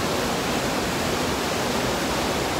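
Steady, loud rushing roar of falling water, broadband and unbroken, like standing close to a waterfall in the Monakhovo gorge.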